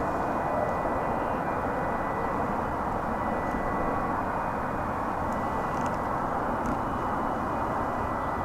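An airplane at DFW Airport produces a steady, loud broadband engine roar that holds constant throughout, heard alone with no voices.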